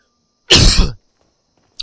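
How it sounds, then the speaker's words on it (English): A single loud, close cough lasting about half a second, followed by silence and a brief faint throat noise at the end. "I just need to cough"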